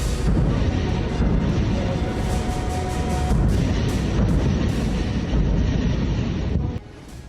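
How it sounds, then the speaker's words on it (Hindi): Heavy, continuous rumbling booms of distant blasts from Israeli strikes on Lebanon, loud and unbroken, with wind buffeting the microphone before it suddenly drops away near the end. "धमाके सुनाई दे रहे हैं"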